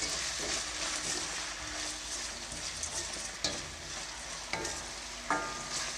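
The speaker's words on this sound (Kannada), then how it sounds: "ಇವಾಗ ಇದನ್ನು ಒಂದೆರಡು ನಿಮಿಷ ಚೆನ್ನಾಗಿ ಫ್ರೈ ಮಾಡ್ಕೊಳ್ತೀನಿ" Green chilies and tomatoes fry in a pan with salt for masala mandakki, a steady close sizzle broken by a few sharp scraping stirs near the end.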